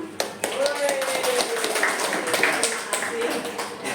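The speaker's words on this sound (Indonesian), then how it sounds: "Terima kasih, tepuk tangan." A small audience clapping at a teacher training presentation, a brisk, even patter of applause lasting a few seconds with no talk over it.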